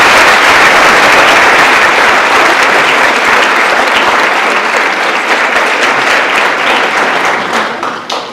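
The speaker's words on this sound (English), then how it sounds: "Can we please have a round of applause?" A school audience at a high school world language honors society induction ceremony gives a long, loud round of applause that holds strong for several seconds and then tapers off at the end.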